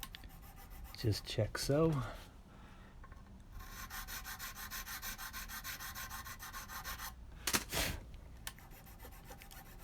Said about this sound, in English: we'll just slightly widen those nut slots